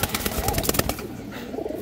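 Black Shap Chila pigeons in a breeding loft coo softly in short low phrases, starting under a burst of clattering and rustling that then settles into quieter cooing.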